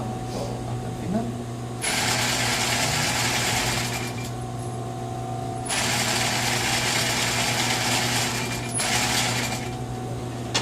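Sewing machine stitching the diagonal seam of a vest, with two sustained runs of fast mechanical whirring against a steady low motor hum, separated by brief pauses.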